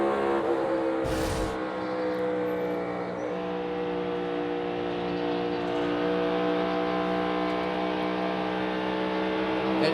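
NASCAR stock cars race at Las Vegas in the closing laps, their engines droning in a steady, loud layered roar from a distance with no break, and a brief sharp knock early on.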